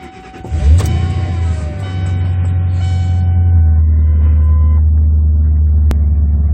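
A cold Ford F-150 with the 5.4L V8 Triton engine cranks briefly and fires, then settles into a loud, steady low idle rumble close by, with no talk.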